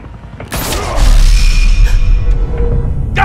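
Gunshots in the Batman Telltale Series video game: a sharp loud crack followed by a heavier blast, then a sustained ringing, mechanical rumble that slowly fades.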